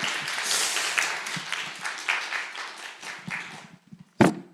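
Youth retreat audience clapping for a volunteer who steps forward, a moderate, uneven round of applause that thins out near the end before one sharp closing clap.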